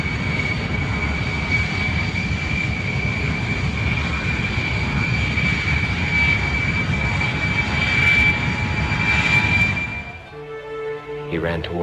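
Airplanes at an airport pier: a loud, steady aircraft engine drone with a sustained whining tone fills the scene for about ten seconds, then cuts off abruptly into quieter, lower hums.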